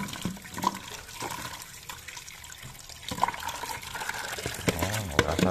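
Kamias fruit being washed by hand under running water in a rural home, a steady close trickle and splash with the wet knocking and rubbing of fruit.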